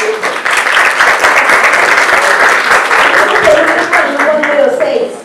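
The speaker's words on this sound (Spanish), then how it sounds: "Aplausos, por favor" Steady, full applause from an audience at a parenting talk fills the room, loud and continuous before tapering off as a voice returns.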